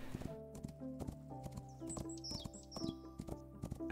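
A horse gallops in the video game Rising World, its hooves clopping in a quick rhythmic beat, with small chirping bird calls over a faint musical bed.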